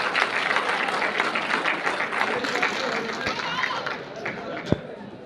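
Audience applause at a mushaira in Qatar welcoming a poet to the stage, a dense steady wash of many hands clapping with crowd murmur, tapering off near the end.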